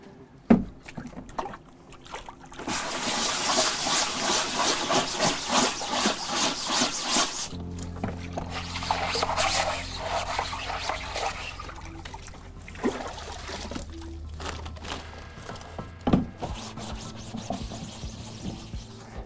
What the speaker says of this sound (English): before it dries, I'm gonna rinse that paint out